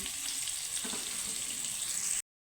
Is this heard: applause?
no